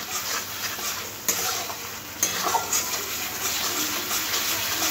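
Mustard masala for sorshe katla fish sizzles steadily in a pan while a utensil stirs it, a few sharp scrapes and clinks cutting through the constant frying hiss, close up and with no talking.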